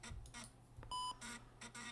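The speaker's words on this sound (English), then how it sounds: "Oh, I just heard a beep." A computer in the video game Sky Factory 4 turns on with a single short, clean electronic beep, heard amid faint intermittent game sounds.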